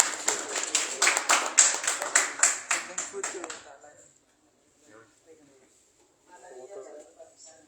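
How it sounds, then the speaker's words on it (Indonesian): An indoor audience at a talk on preventing foot-and-mouth disease in livestock claps together for about four seconds in a quick, dense patter that then fades out, followed by quiet murmurs. "Tepuk tangan untuk diri kita masing-masing."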